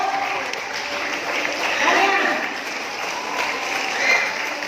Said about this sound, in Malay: Berikan tepukan kepada diri sendiri